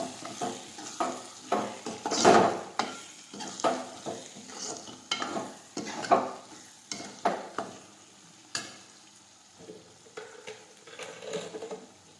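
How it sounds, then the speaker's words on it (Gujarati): Spoon stirring spices through mashed roasted eggplant bharta (ringan olo) in a pan, with irregular scraping and clinking strokes and light sizzle, close and moderately loud, no talking. "હવે બધા મસાલા છે તે મિક્સ કરી દઈશું"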